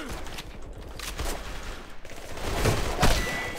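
Rapid bursts of suppressed B&T MP9 submachine gun fire in the shooter game AVA, a dense continuous fusillade at close range that swells louder toward the end.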